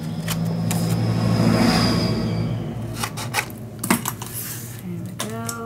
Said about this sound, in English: now I am going to cut my corner